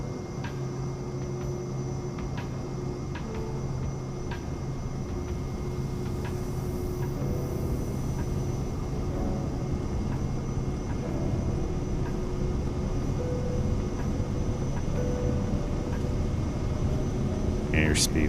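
A Cirrus Vision Jet's engine runs at full throttle on its takeoff roll on a hot day in Florida, a constant loud cockpit roar and whine that holds level throughout, with faint ticking under it.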